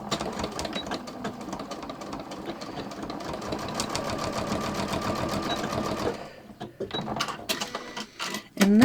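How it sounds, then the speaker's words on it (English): A sewing machine with a straight stitch foot and built-in walking foot stitches a label onto a knitted shawl, its rapid steady needle rhythm running close and continuous before stopping, followed by scattered handling clicks. "So I'm just going to stitch here."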